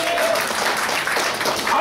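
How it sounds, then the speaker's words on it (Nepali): Church congregation clapping hands together during worship, a dense, steady wash of applause filling the whole stretch, with voices faintly mixed in. "जोडे ताली बजाएर पढ्नु सक्नुहुन्छ"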